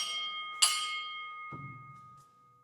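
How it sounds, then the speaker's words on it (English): A signal bell rings at Sterling Hill Mine with a sharp metallic strike that rings out and decays, followed by a duller thud, close and clear with no talk. "And the number of bells is the level that they would go down to."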